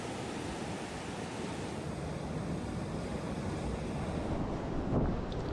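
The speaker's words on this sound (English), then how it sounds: "Ponta de Ouro is a well-known point break that offers consistent, long right-handed waves, breaking over a reef and a sandy bottom." Ocean surf breaking at the Ponta do Ouro point break, long right-handed waves over a reef and sandy bottom, a steady loud wash of water mixed with wind buffeting the microphone and a slight swell near the end.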